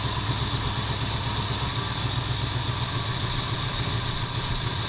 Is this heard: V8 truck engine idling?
yes